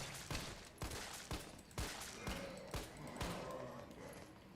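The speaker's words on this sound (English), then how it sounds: "Well, I guess I'll just shoot him." Pistol shots in the video game Resident Evil 3 Remake fire in a steady series of about nine sharp, punchy reports roughly half a second apart, with faint voices and game ambience underneath.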